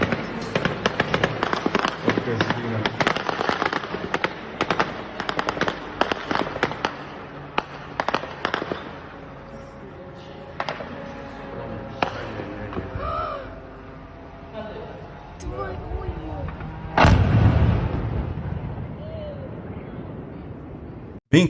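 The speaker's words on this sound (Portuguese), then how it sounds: "Os russos tentando derrubar o drone ucraniano com tiros." Sharp gunshot cracks fired at a Ukrainian drone during an attack on the Tuapse oil refinery in Russia, many rapid bursts in the first half thinning to scattered shots, then a louder blast near the end.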